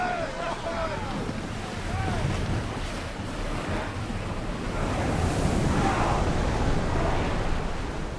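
A sailing ship cuts through rolling ocean waves in Assassin's Creed Odyssey, with steady surf wash and gusting wind noise filling the scene continuously, low rumbling water underneath and faint voices or calls in the background.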